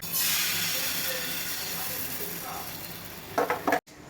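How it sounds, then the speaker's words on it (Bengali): Batter for patishapta pancakes fries in a pan at home, giving a steady close hiss and sizzle that fades slightly, with a few brief clatters near the end and no clear speech. "এই যে মা এখন এখানে পাটিসাপটাগুলো বানাচ্ছে, বেশ অনেকগুলোই ভেজে নিয়েছে"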